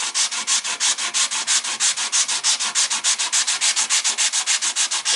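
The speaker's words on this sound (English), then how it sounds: "move the block, it's going to cut faster, especially with this good sandpaper" A sanding block rubs rapidly back and forth across the wooden headstock of a guitar neck, a loud, close, even rhythm of about five raspy strokes per second with no talking.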